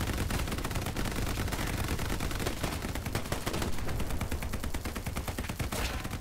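Sustained machine gun fire in a D-Day shooter video game, rapid continuous bursts of close, loud shots rattling without pause for several seconds.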